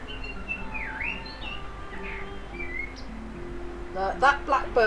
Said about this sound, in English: That blackbird's totally nailing it.